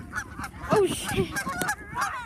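Geese being chased honk repeatedly in loud, close, overlapping calls, a rapid series of harsh nasal honks with no speech over them.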